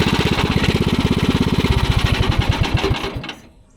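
A small engine on a cheap backyard go kart runs loud and close, a rapid chugging putter with a steady pulse that slows slightly before cutting out and fading to silence.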